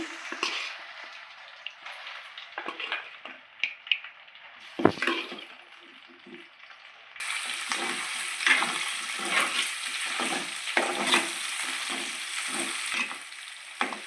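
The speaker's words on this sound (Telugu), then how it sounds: "చికెన్ అయితే నూనెలో వేయించుకుందాము" Chicken pieces for chicken pickle frying in oil in a pan, a steady sizzle that begins low and grows louder and fuller midway, with intermittent stirring scrapes and clinks throughout.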